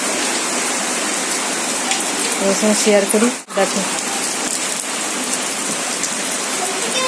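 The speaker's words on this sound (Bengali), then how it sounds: "খুব জোরে বৃষ্টি হচ্ছে" Heavy rain pours steadily in a dense, loud hiss, with a person talking over it.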